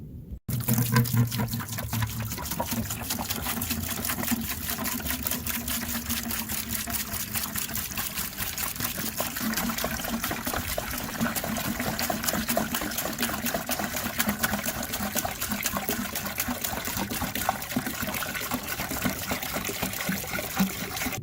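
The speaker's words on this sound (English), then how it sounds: "So I'm going to put that in this bucket, and then we'll pump it in with my pump." RV antifreeze pours steadily into a bucket as a continuous, close liquid rush lasting about twenty seconds without a break.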